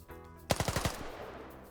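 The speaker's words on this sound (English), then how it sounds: "Let's see if they identify the PP2000 firing" A PP2000 firing in a PvP video game match, a quick burst of about six rapid automatic shots, moderately loud, with a short decaying tail afterward.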